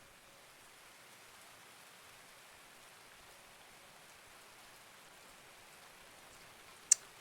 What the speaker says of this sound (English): Oh snap, it's raining.